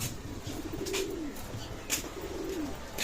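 Pakistani teddy pigeons coo softly and repeatedly at close range, low rolling calls over quiet background noise.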